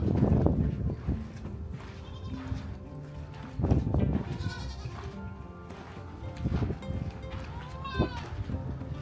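Goats at an old Southern California rancho bleat several times, wavering calls rising over farmyard background noise with a few voices murmuring.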